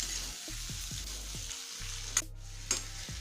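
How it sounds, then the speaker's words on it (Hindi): Chopped tomatoes cook in a pan for a rajma recipe, giving a soft, steady sizzle with a few faint stirring clicks and two sharp scrapes near the end, with no voices. "टमाटर भी अच्छी तरह से पक गया है।"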